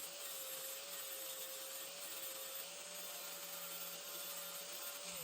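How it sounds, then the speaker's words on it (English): Angle grinder cleaning up and bevelling the edge of an old metal valve, a loud continuous high-pitched whine with a steady tone, close and unbroken for the whole stretch. "Using my grinder, I clean up the edge I'm going to be welding, and I put a little bevel on it"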